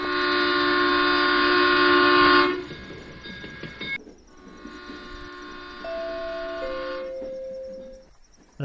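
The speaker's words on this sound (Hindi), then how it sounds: "ट्रेन आ जाती है" A passenger express train pulls into a station, its long horn blaring loudly for a couple of seconds, then fading to rumbling wheels and further tonal horn or whistle blasts at a distance.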